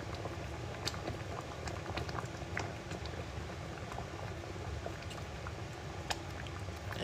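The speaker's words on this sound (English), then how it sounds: "this is the smallest pot, and I probably put like a little too much rice in it" Rice in a small, overfilled pot simmering at a steady rolling boil, a dense bubbling and popping texture with scattered sharper pops, continuous and moderately quiet at close range.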